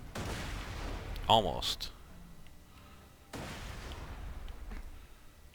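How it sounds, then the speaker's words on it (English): A grenade explodes in Borderlands 2 with a sharp in-game boom and a decaying rumble, followed later by another burst of game noise, while a player speaks briefly. "Alright, a regular grenade should do. Throwing grenade."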